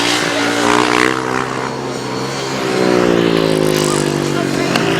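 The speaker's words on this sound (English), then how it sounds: "All big wheelies for Paul Hurry as he comes around and takes the last lap flag" Grasstrack racing motorcycles on the last lap roar past in a loud, continuous engine drone with shifting pitch, close and dominant, while a commentator talks over them.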